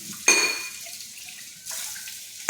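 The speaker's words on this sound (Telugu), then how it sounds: "చేతికి సోప్ రాసేసుకుని ప్రశాంతంగా కడిగేసుకుంటే జ్యూస్ గ్లాసులు కానీ వాటర్ గ్లాసులు కానీ" Juice and water glasses are rinsed by soapy hands under a running tap, with short bursts of splashing water separated by quieter dripping gaps, close and alone.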